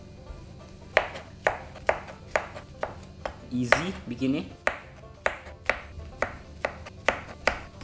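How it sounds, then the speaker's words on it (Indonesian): A knife chops champignon mushrooms on a board in a home kitchen, the sharp regular strokes near and about twice a second, with a brief bit of talk in the middle. "Sekarang bagian motong jamur."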